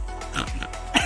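A pig grunts and oinks several times in quick short snorts, close by, outdoors near waterfalls in Infanta.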